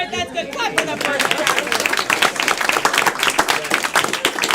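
An audience claps for the first round of a live comedy game show, a dense burst of applause that holds steady throughout, with some crowd voices mixed in.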